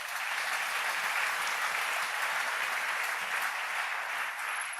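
A church congregation applauds the Lord together, a dense, steady wash of clapping from many hands filling the room for about five seconds without pause, with no voices rising above it.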